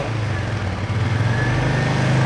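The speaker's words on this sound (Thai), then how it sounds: "เดี๋ยวมาฟังเสียงท่อคันนี้กัน" A 2023 Royal Enfield Meteor 350 Supernova motorcycle engine runs steadily with a deep, low exhaust rumble, holding a fairly even idle-like drone close by with no talking.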